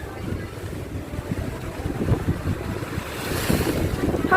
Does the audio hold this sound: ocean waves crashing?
yes